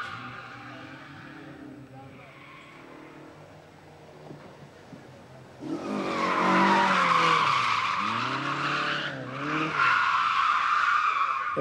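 Tires screech loudly as a car drifts, a long wailing skid rising in pitch over a roaring engine, with a brief dip before another squeal.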